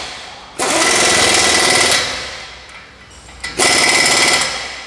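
A pneumatic impact wrench rattles loudly in two sustained bursts while work is done on the suspension of a Toyota Hilux 2.5, with a short lull between them.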